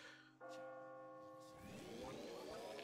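A purifying bell in Yo-kai Watch 3 strikes once and rings out in a sustained, shimmering tone, then fades under a swelling wash of game sound and a rising tone.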